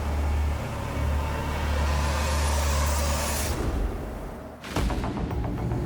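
Brisbane road traffic rumbles loudly and close, with vehicles passing and a heavy engine drone that drops away before another whoosh goes by near the end.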